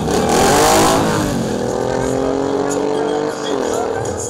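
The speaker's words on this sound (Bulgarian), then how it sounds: "На пистата излязоха състезатели с мотори от 600 до 1000 кубика и силно атрактивните чопъри." Racing motorcycles of 600 to 1000 cc on a track, engines whining at high revs as they pass close by, pitch sliding down and then rising again with acceleration, loud and continuous.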